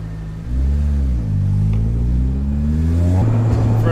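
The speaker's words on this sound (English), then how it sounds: "I will drop it down a few gears and go." A K20A2-swapped Honda Civic EG pulls hard through the gears from about 50 mph, engine note climbing in pitch, dropping at each shift and rising again, loud and continuous from inside the car.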